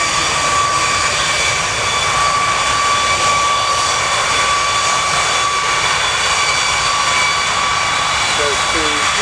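Avro Vulcan XH558 jet engines rumble and roar steadily at Fairford airbase, a loud, continuous broadband jet noise with a thin whining tone, while a commentator's voice talks over it throughout.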